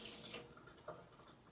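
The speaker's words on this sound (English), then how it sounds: "I'm going to quickly wash my hands" Hands are rinsed under a running kitchen tap, with a faint, soft splash of water that stays steady and distant and carries no voices.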